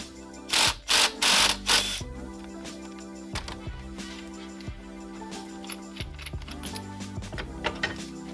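Metal tool work on a motorcycle flywheel using an M26 by 1.5 flywheel puller: three loud bursts of clattering up front, then scattered mechanical clicks and clinks over a steady low hum, with no talking.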